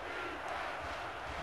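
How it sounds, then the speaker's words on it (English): A stadium crowd in an NCAA Football video game during a Navy Midshipmen game roars steadily and loudly, a dense continuous wash of cheering with no breaks. "Pump up the crowd, Lakota."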